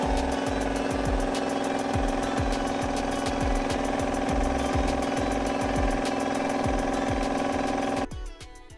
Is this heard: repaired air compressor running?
yes